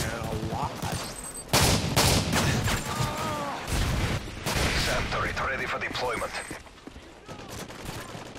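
Call of Duty Modern Warfare 3 multiplayer gunfire, repeated loud bursts and single shots spread across the stretch, mixed with in-game announcer callouts and a player talking over the action.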